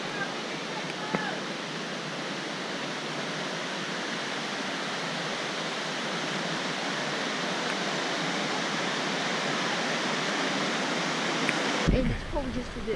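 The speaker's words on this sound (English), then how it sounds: "Beautiful little waterfall just up here." A small mountain waterfall in Rocky Mountain National Park, along the trail toward Dream Lake, pours in a steady, even rush of white water heard close by, with a brief handling bump near the end.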